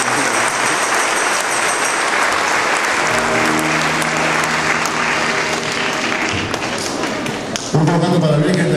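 A church congregation at a service with a banda breaks into dense, sustained applause that fills the room, while voices and a few sustained musical tones sound beneath it.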